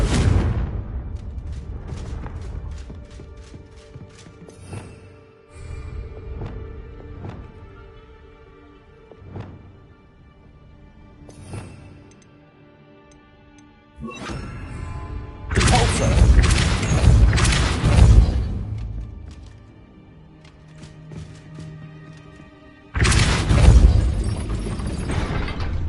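Confringo fire spell blasting in Hogwarts Legacy on PS5, heavy booming bursts with crackling debris, two large loud blasts later amid continuous game rumble and effects.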